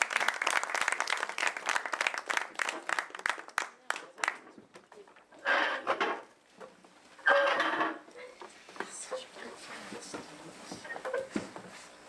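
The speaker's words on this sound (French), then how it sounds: "Vous pouvez les applaudir." Scattered clapping from a small crowd fades out after a few seconds, followed by quieter room noise and some shuffling.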